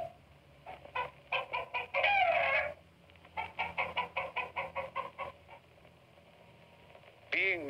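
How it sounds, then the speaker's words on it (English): Roosters spar in a Dayak cockfight in Borneo, squawking and clucking in quick rhythmic bursts, with a long raucous crow near the start and another at the end, close and loud. "The favorite dark sport is cockfighting. Here the boys are only letting them spar."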